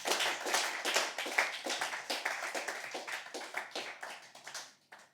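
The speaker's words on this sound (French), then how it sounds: "vous applaudir pour votre écoute" Scattered hand clapping from a small audience at a slam poetry show, moderately quiet with individual claps distinguishable, tapering off and fading out near the end.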